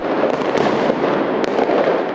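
Fireworks and firecrackers bursting during New Year celebrations in Beijing, a dense, continuous crackling roar with sharp pops and bangs layered over one another, loud and alone.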